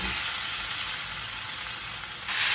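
Potatoes fry in a heated pan with about a tablespoon of oil, a constant bright hiss and crackle that swells louder near the end, with no talk.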